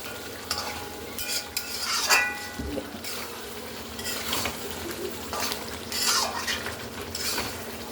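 Mutton frying in a pan with meat stock is stirred steadily, with a continuous sizzle under repeated scraping and clinking of a utensil against the metal, heard up close with no talking.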